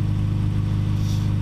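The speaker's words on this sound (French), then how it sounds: "la voiture est pas super bien réglée au ralenti" A cold car engine idles roughly with a poorly tuned idle, a steady low mechanical drone that runs continuously and loud up close, with no talk over it.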